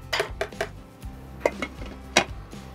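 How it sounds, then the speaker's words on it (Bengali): A metal lid set onto a cooking pot of butter pulao, with a few sharp close clinks and knocks of metal on metal in quick succession, then a couple of louder isolated taps. "তাহলে এবার ঢাকাটা দিয়ে দিই"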